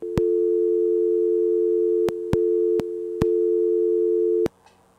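A telephone busy signal after a caller hangs up on a call-in line: a steady tone interrupted by sharp clicks, loud and close, then cutting off near the end.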